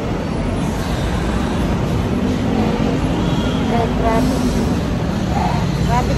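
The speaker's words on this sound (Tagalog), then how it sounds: "Traffic." Busy street traffic in Binondo, Manila's Chinatown, a steady dense roadway rumble of engines close by with faint voices mixed in and no clear pauses.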